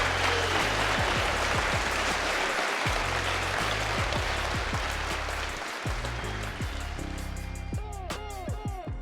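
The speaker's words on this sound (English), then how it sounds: "So a massive round of applause for the infamous Lee Priest." Audience applause greeting bodybuilder Lee Priest on stage, continuous crowd clapping over low music, tapering off toward the end as the noise thins out.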